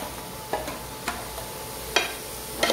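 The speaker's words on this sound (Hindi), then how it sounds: "अब हम इसको हमारे तेल में डाल लेंगे," Chopped onions stirred in hot oil, a soft continuous sizzle under a few sharp spoon scrapes and taps against the pan, close and moderately loud.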